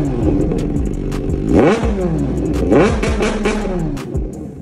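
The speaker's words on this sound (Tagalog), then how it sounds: "Inline 4 engine ang isa sa talaga namang napakaganda at napakaangas na tunog ng isang motor." An inline-four motorcycle engine is revved twice in quick sharp rises and falls, loud and close, with a throaty idle between the blips.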